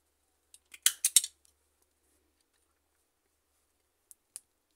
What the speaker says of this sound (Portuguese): Cortar aqui o meu fio.